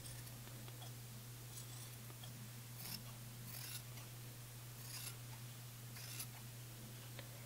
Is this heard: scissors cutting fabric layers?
yes